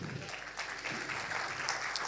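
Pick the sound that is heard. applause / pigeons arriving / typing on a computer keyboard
applause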